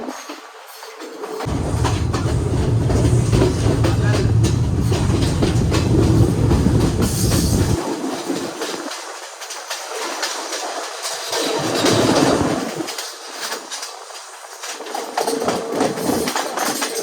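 A train rolls along rails through the hills of upcountry Sri Lanka near Nanu Oya waterfall, a loud steady rumble and clatter of wheels that eases and swells again in later stretches.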